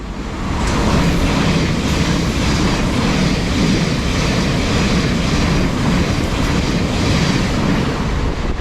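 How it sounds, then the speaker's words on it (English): Loud, steady rushing roar of a Class 700 electric passenger train speeding through a West Sussex station nearby, a continuous rumble with rattling wheels and no talking. "It's the Pride 700 going through, heading to Gatwick Airport."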